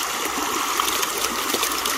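Water rushing through an old school sluice box used for gold prospecting, a steady close gushing and trickling flow with small splashy bursts, no talking.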